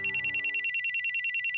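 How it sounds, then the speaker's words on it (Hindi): Telephone ringing with a rapid, pulsing electronic trill, loud and close, repeating steadily throughout while faint background sound fades out early. "ये देखो चेतना का फोन।"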